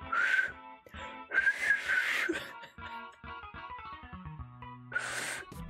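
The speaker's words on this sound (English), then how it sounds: "One more failed whistle attempt and we enable the lightning skulls." A person tries to whistle and fails, producing breathy, airy puffs with faint wavering tones that break up, interspersed with short musical notes in the background.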